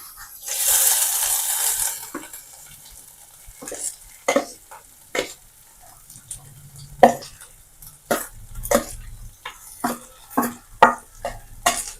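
Beetroot thoran being stirred in a frying pan: a loud opening sizzle, then a steady run of sharp spatula scrapes and clinks against the pan at close range over a low fry.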